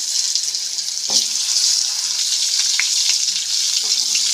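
Panch phoron spices sizzling in hot oil left over from frying rohu fish, a bright, steady crackling hiss close by with a few sharp pops and spatters.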